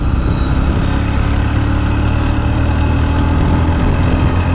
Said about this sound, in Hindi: सो अभी थोड़ा भगाते हैं बाइक को।